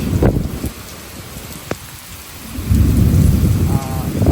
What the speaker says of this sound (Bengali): প্রচণ্ড বৃষ্টি হইতেছে, সাথে বাতাসও আছে।